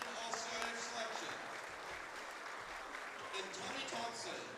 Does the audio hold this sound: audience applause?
yes